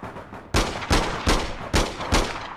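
Gunfire in the APB Reloaded video game: five loud, close shots in a steady rhythm, each about half a second apart, with no talk.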